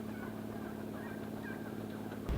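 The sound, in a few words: wild turkeys roosting in trees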